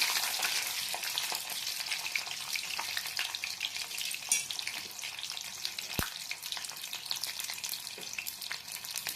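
Garlic frying in hot oil, giving a bright, dense, continuous crackling sizzle close up, with a single sharp knock partway through.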